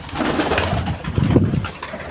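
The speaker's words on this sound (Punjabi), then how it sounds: "ਲੋ ਜੀ ਇੱਧਰ ਕਬੂਤਰੀਆਂ ਫਿਰਦੀਆਂ ਤੇ ਇੱਧਰ ਫਿਰਦੇ ਕਬੂਤਰ" Pigeons coo nearby in low, throaty, repeated murmurs that overlap in a soft, continuous rhythm.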